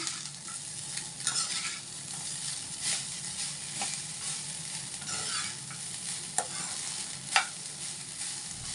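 Curry leaf rice for a lunch box stirred in a pan, with a steady soft sizzle and repeated scraping strokes of a spoon against the pan, close and fairly quiet, with no talk.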